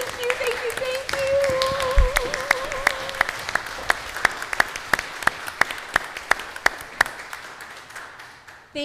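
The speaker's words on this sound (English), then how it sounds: "all these volunteers, a round of applause" Congregation applauding church volunteers at a Sunday worship service, a broad wash of clapping that thins into a steady run of distinct, evenly spaced claps, with a voice speaking over the start.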